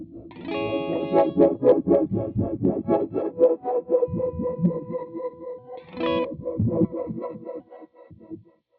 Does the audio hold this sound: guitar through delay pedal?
yes